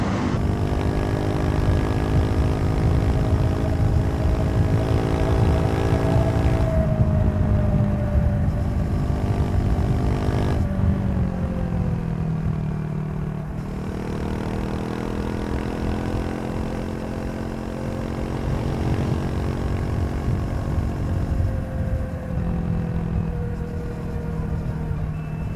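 Exhaust note of a Triumph Scrambler 400XC while riding: a steady, loud single-cylinder drone that rises in pitch through each gear, with several audible shift drops as the bike pulls on.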